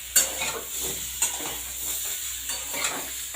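Spices being stir-fried in hot oil in a pan for a papaya dish, with soft sizzling and repeated scraping stirs of a spatula against the pan, close and steady with no talk.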